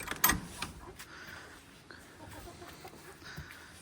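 Chickens, including a young cockerel, cluck faintly as they are let out of their coop on a Nova Scotia homestead. A sharp knock sounds first, then scattered soft clucks over a low background.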